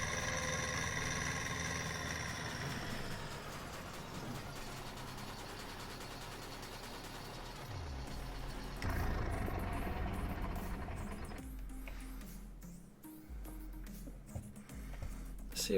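A Deutz tractor engine idling on a small village farm, a steady low mechanical rumble close by with some fluctuation and shifting tone partway through, and speech faintly present at times.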